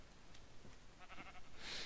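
Sheep bleating in a Minecraft UHC game, a few short faint calls over a quiet background noise bed.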